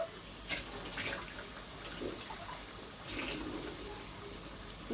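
Water poured into a pan of spiced chicken curry masala with cumin powder, a steady, moderately loud rushing splash lasting several seconds with no talking.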